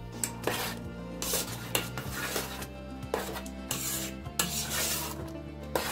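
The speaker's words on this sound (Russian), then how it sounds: "Перемешиваем и варим дальше до полного приготовления." A spoon scrapes and rubs around the inside of a pot of cooking peas in repeated strokes, with soft knocks against the metal.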